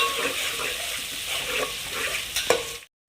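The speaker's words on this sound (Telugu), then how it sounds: "పచ్చిమిర్చి సో ఆనియన్స్ కూడా ఫ్రై అవ్వాలి" Green chillies and chopped onions fry in hot oil in a pan for vegetable pulao, a steady close sizzle with light stirring scrapes throughout before it cuts off abruptly.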